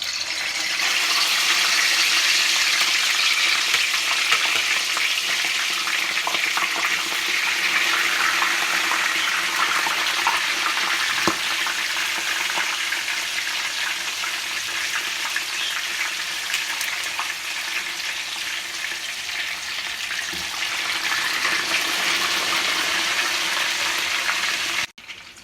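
Steady loud sizzling and crackling of meat frying in hot oil for Kuwaiti machboos, continuous throughout with no pauses.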